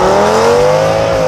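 An Audi S8 D4 engine revs in stock form, a steady loud rising drone over a short burst with no talk.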